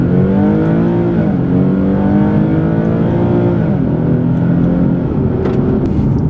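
A 2013 car, one of an Infiniti G37, Audi S5 or Volvo S60, accelerates hard from a standstill in a 0-60 mph run, its loud engine note climbing in pitch through the gears with brief dips at the shifts.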